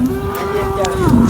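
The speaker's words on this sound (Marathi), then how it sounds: "तिसऱ्या वेताला मोठ्या मापाची म्हैस आहे ही पण" A large buffalo gives one long, low moo at a buffalo market in Sangola, close and loud, held steady for over a second before it dips at the end.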